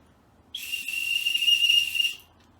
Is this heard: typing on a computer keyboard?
no